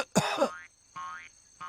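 A cartoonish cough from a snail caught in a cloud of dust at the start of a race, in a children's story; three short, close, squeaky hacking bursts with rising pitch sweeps and gaps between them, no talking.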